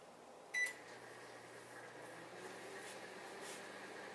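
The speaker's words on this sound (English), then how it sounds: "Now we're going to pop this in the microwave for about 6 to 8 minutes." A microwave oven cooking oats starts with a single beep and then hums steadily, low and close, with no talk.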